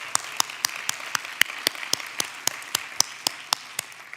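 A round of applause at a student challenge finals event, broad clapping from an audience with a few sharp, louder claps standing out at regular intervals, moderately distant.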